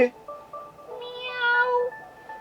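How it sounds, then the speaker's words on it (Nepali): A cat meows up close, a few drawn-out, wavering meows in quick succession with no other sound around them. "होइन के म्याउ म्याउ गरे?"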